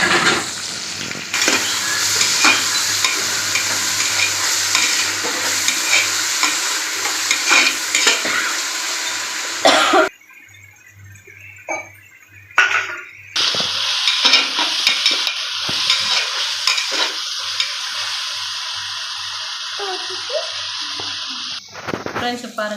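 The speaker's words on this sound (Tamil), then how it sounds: "வெங்காயம் நல்லா வதங்கிடுச்சு" Onions with salt sauté in a pan for homestyle biryani. Loud, close sizzling and stirring scrapes run throughout, broken by a short quiet stretch midway, with faint voices underneath.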